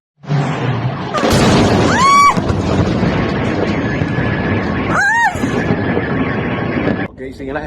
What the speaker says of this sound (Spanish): Ok, siguen las explosiones